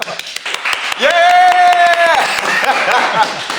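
A small group claps and cheers for a 76-year-old grandfather guest on a podcast, a burst of close applause with a loud voice rising over it.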